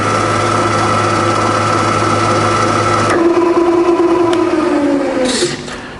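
A Bridgeport milling machine with a 48-inch table runs its spindle: a loud, steady motor hum that shifts pitch midway as the spindle brakes and reverses, then winds down and fades at the end.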